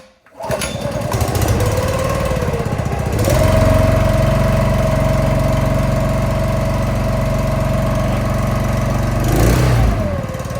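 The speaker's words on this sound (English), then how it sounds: "So starting the pump, turn on the on switch, flip on the choke" The small pump engine on a truck-mounted lawn care spray tank starts and settles into a loud, steady, near drone at low throttle, with a slight pitch change near the end.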